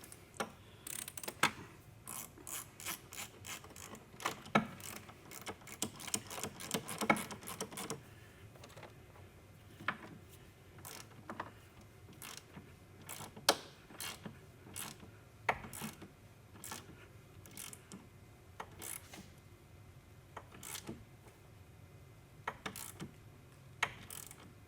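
Bolts being snugged down on a hydraulic jack plate mounted to a boat transom, heard as bursts of quick ratcheting clicks, a rapid run early on then scattered clicks and taps, close and fairly loud with no talk.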